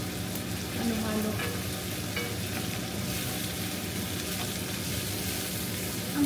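Garlic and butter fry with a steady, close sizzle in a pan while being stirred, the crackle running continuously throughout without any talk.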